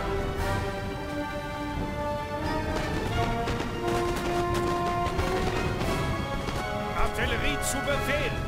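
Cavalry chasseurs and dragoons charging in Napoleon: Total War, galloping hooves and clashing impacts under a steady battle din and music, with a voice talking over it.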